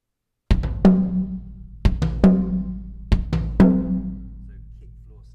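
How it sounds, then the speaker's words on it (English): Live acoustic drum kit playing a slow pattern of kick, floor tom and snare, three-hit groups repeated three times with loud sharp attacks and ringing decay, alone without talk. "kick, floor, snare."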